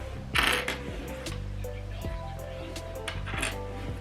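Metal sewing pins are handled and picked up close by, giving small repeated clinks and ticks against a steady low background hum.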